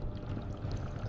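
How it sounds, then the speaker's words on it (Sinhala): Seawater rushing into a submarine's ballast tanks as the valves open, a dense, steady low roar of pouring water that stays loud and continuous throughout. "එහි වටා ඇති බැලස් ටැංකිවල කපාට ඇරලා මුහුදු වතුර ඇතුළට"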